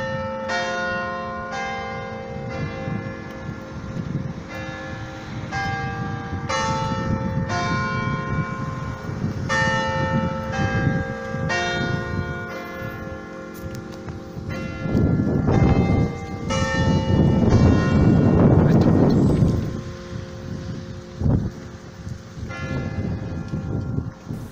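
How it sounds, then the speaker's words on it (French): Bronze church carillon of Saint-Marc-la-Jaille, nine small bells and a 2330 kg bourdon, ringing a long sequence of clear struck tones that swells into a louder peal mid-way, then fades, heard from a moderate distance. "dote l'église de Saint-Marc-la-Jaille d'un carillon de 9 petites cloches et d'un bourdon de 2330 kg."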